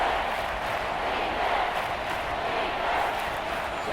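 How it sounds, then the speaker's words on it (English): Stadium crowd cheering in the video game Madden 23 during a Bears versus Saints game, a steady, broad roar of many voices holding at an even level, moderately loud with no break. "this crowd's going to get even louder"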